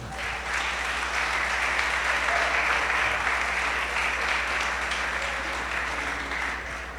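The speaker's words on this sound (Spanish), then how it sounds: "Dele un aplauso al Señor." A church congregation applauds, dense and sustained clapping from many people that holds steady and loud throughout.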